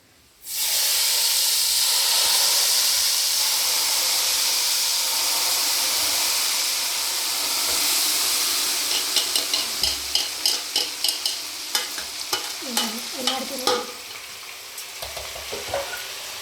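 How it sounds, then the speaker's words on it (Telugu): Hot tempering is poured into tomato chutney, setting off a loud, close burst of sizzling and hissing that fades to a softer crackle, followed by a run of rhythmic stirring taps from a spoon. "ఇప్పుడు ఈ పోపు ఈ చట్నీలోకి వేద్దామండి ఇది వేడి ఉన్నప్పుడు వేసుకోవచ్చండి"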